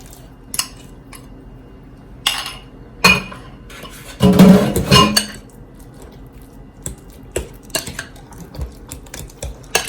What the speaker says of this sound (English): Mix it around.